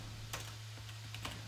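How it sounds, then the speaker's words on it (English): Computer keyboard typing, a few quick soft key clicks in two short bursts over a steady low hum, close and quiet. "I'm having a difficulty typing"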